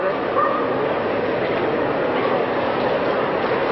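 Alaskan Malamutes and other dogs bark and yip in a crowded indoor room at a 1982 dog show, a dense, continuous din of overlapping barks with faint voices mixed in.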